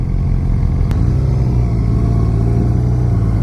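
A 2016 Suzuki GSX-R600 supersport motorcycle engine revving up into its power band, a loud, continuous close rumbling drone with rising tone and a sharp click near the start.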